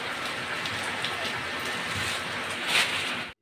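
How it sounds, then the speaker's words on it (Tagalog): Rain falls steadily, a dense, even hiss of drops striking surfaces close by, continuous throughout and ending with a brief cut at the very end. "Ngayon, ulan pa rin."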